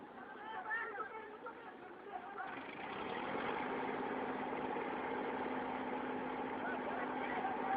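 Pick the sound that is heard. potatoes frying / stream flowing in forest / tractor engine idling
tractor engine idling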